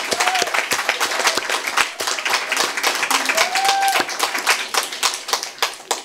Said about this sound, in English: I'd just like a little applause for her right now